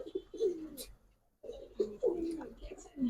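Giribaz pigeons coo close by in repeated throaty bursts, falling quiet for a moment before cooing again.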